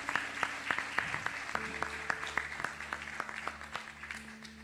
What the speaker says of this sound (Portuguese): Aplaude a Deus por isso em nome de Jesus